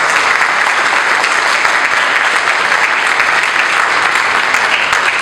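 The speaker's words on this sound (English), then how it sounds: "And I think that deserves a round of applause." Dense, steady applause fills an awards ceremony hall, a loud sustained round of clapping from a large audience, continuous for several seconds with no voices on top.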